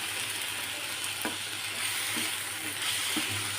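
Chopped tomatoes and onions fry in a pan for kotthu paratha, a steady soft sizzle with occasional light stirring scrapes, close and moderately quiet, no talking.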